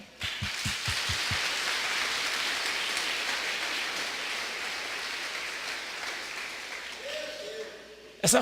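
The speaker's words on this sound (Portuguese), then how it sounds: "Eu quero dar uma salva de palmas para você." Church congregation applauding during a Portuguese-language sermon, a sustained dense wash of clapping from a large crowd that holds steady for most of the stretch, with a few isolated claps at the start and a voice emerging near the end.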